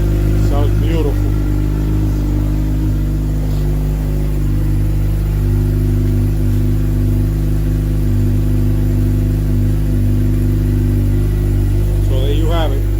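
2017 Suzuki GSXR600 motorcycle engine running loud and close with a steady droning hum, pitch shifting slightly as it revs, with brief voices at the start and end.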